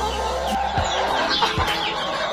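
A Boston Roundhead gamecock clucks close by in a few short low bursts over steady farmyard background noise.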